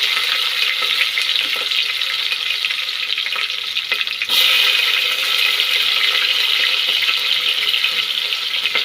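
Sliced onion goes into hot oil for chicken biryani, and a loud, close, continuous frying hiss follows. The sizzle jumps sharply partway through, then holds strong with no talking.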